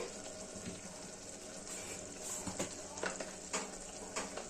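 Chicken masala fries in a pan with coriander and other spice powders for donne biryani, a faint, soft sizzle broken by light stirring and scraping taps.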